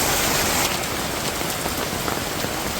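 Steady, dense rain pours down outdoors, a loud continuous hiss of drops on surfaces with no voices.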